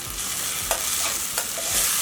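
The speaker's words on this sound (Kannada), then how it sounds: "ಚೆನ್ನಾಗಿ ಮಿಕ್ಸ್ ಮಾಡ್ಕೊಳ್ಳೋಣ." A tamarind tempering being stirred and mixed in a pan, with a soft continuous sizzle beneath a few distinct spoon scrapes, close by and brief.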